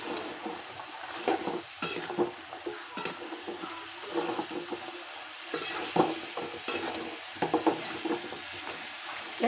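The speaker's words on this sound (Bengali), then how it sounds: "মশলাটা 5 মিনিট কষিয়ে নিচ্ছি।" Spice paste being stir-fried in a pot with a little water for a fish curry, heard as repeated scraping and stirring strokes with a soft sizzle underneath, close and moderately loud with no talking.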